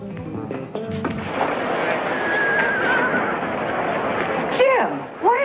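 A racehorse gives short, high whinnies near the end, sounding close and fairly loud over steady background noise, with people talking beforehand.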